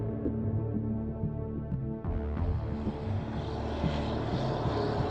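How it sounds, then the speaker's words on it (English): A float plane flies over a remote, isolated anchorage in Southeast Alaska, its propeller engine droning steadily throughout. The throb swells louder about halfway through, as if the plane draws nearer. "a float plane provides convenient access to boats moored in this isolated anchorage."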